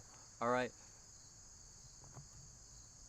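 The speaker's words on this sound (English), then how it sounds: "Look at all these crickets. They're singing for you." Crickets in the woods at night give a steady high-pitched chirping drone that runs through the whole clip, with a brief spoken word near the start and faint background noise.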